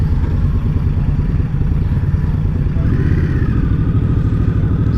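An Indian Scout Bobber motorcycle being ridden, its engine a loud, close, steady rumble with a rapid pulsing throb and a slight rise in pitch partway through, with no voices.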